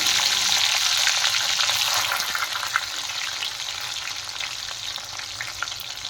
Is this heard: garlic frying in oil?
yes